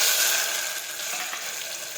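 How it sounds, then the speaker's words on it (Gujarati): Chopped onions and tomatoes sizzle in a pan while being sautéed for a mixed eggplant and potato vegetable dish, a steady close hissing fry with faint stirring. "હવે આપણે સાતળી લઈશું।"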